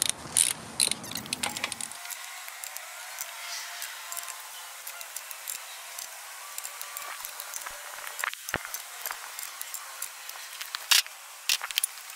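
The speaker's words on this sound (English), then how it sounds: "It's time to torque these down." A torque wrench ratchets while tightening the front axle bolts on a Ford F250 to 155 ft-lb. It makes steady, close, fast clicking throughout, with a few sharper, louder clicks near the end.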